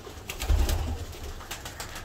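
Pigeons coo in a loft where pairs are kept and young have just hatched, giving low, soft throaty murmurs, close and fairly faint, with light rustling behind them.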